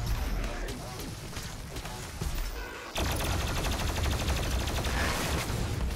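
Rapid enemy gunfire and explosive blasts in the video game Doom Eternal, dense and loud throughout, jumping to an even heavier barrage halfway, with a player's voice talking over the combat.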